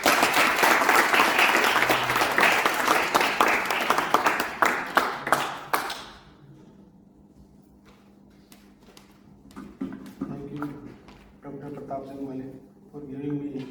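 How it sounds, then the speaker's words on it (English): Loud round of applause greeting a judge at a university storytelling competition; the clapping fades after several seconds and a voice then begins speaking. "Sir, we welcome you with a huge round of applause."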